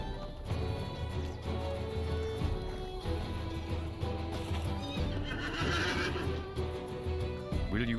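War horse in the video game Lord of the Rings Online neighing loudly over clip-clopping hooves and a steady game ambience, the whinny rising clearly near the middle, with no talk.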